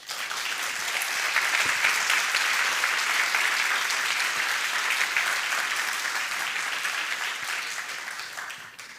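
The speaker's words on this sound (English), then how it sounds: "a big round of applause to her" A conference audience at PyCon Italia gives a keynote speaker a big round of applause, dense and steady clapping sustained for about nine seconds before it begins to taper.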